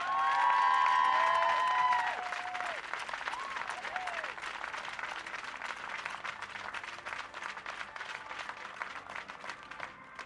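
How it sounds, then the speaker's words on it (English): An audience at an archery tournament final applauds a gold medal winner, a steady wash of clapping heard from a distance, with a brief announcer tone at the start that gives way to sustained applause. "Please give a warm round of applause to our athletes."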